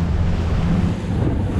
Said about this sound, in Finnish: kyllä on hirveet aallot täällä